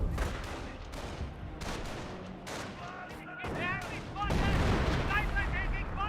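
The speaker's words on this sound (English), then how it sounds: "Artillery round in." Artillery fire and explosions in the Company of Heroes war game, with repeated heavy booms and gunfire rolling over dense battlefield noise, plus whistling shell sounds and bursts of in-game voices.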